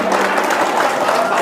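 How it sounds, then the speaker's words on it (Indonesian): Audience applause at an Indonesian religious talk on marriage, a dense, steady wash of clapping hands that fills the whole moment without any voice over it. "Tepuk tangan dulu."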